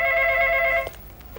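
A telephone rings in a single steady electronic burst of about 0.8 seconds, loud and close, then cuts off to quiet room tone with faint clicks.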